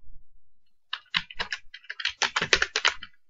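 Keys clatter on a computer keyboard in irregular bursts of close, crisp clicks, with a short pause before a faster run of typing.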